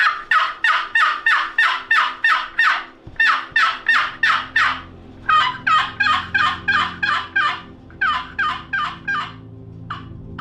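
Rapid, sharp turkey yelps from a wooden paddle call, played close and loud in quick rhythmic runs with brief pauses between bursts.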